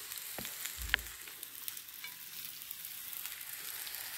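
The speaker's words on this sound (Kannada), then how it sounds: "ನೋಡಿ, ಈ ಥರ ಫಿಶನ್ನು ಹಾಕ್ಕೊಂಡಿದ್ದೀನಿ ತವಾ ಫ್ರೈಗೆ." Semolina-coated fish frying on a flat tava griddle gives a steady, quiet sizzle throughout, with a brief low clatter near the start and no talking.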